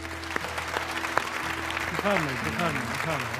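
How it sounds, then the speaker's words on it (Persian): An audience applauds a mother and father on a studio stage during a televised religious program, the steady clapping blending with a voice and some tonal sounds that rise in the second half. "یه بار دیگه این پدر مادر عزیز رو تشویق بکنید"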